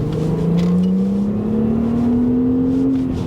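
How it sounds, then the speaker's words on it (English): An Audi B5 RS4 Avant engine revs up under a deep throttle stab, a loud, smooth rising drone heard from inside the car, climbing steadily in pitch for a few seconds without talk. "You gotta deep stab at the throttle to get the revs up."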